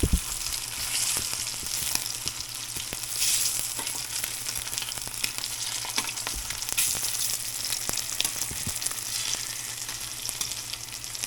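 Food frying in a pan: a dense, continuous sizzle heard up close, broken by scattered pops and light scraping, as if the pieces are being stirred, with no voices.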